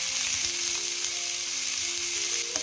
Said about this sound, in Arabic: غادي نضيف لها هذيك البصلة اللي شلضناها على هاد الشكل